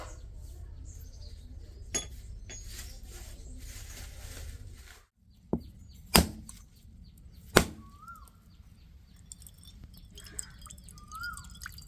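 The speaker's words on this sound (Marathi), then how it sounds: "हा नारळ सोडायला आम्हाला भरपूर मेहनत लागली हो त्याला आता फोडू" A few sharp, hard chopping strikes, spaced apart, as a coconut is hacked open, with faint birdsong and quiet background in between.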